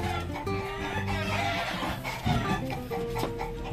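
Chickens clucking and calling nearby, several birds making short repeated cackles over a low background hum.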